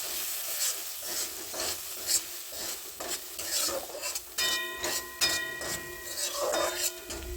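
Ground masala paste with red chilli powder and black masala frying in oil in a pan at home, a steady close hiss and sizzle with stirring scrapes throughout.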